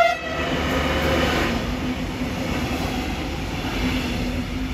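A regional express train rolls through Gießen station, a steady loud rumble of wagons passing close by, with wheel noise and rail clatter sustained throughout.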